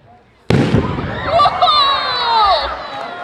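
A red balloon bursts at a homecoming science carnival, a sudden loud pop followed by an excited crowd cheering and shouting close by.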